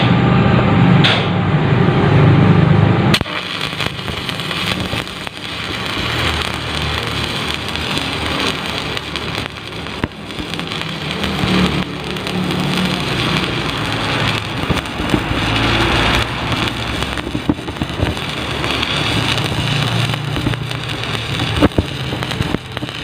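Electric arc welding with a half-circle weaving motion, a steady close crackling sizzle like rain on a surface that keeps going without a break, alone with no talk.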